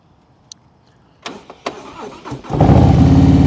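A motorcycle engine starting, catching after a few cranking bursts, then settling into a loud, steady close-up running sound as the rider prepares a smooth takeoff in slow-speed practice.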